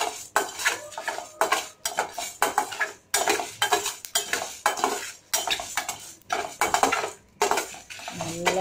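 Ingredients for a mixed-vegetable poricha kulambu are roasted in a pan with constant metal stirring, a busy run of scraping, clinking spoon-on-pan strokes in quick bursts over a faint sizzle.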